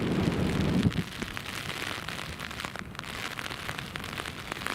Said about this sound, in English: I hope all of you can hear the rain hitting the umbrella because it's